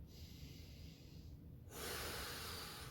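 Slow breathing while holding a sleeper stretch: a quiet exhale, then a louder, hissing inhale through the nose, close and alone.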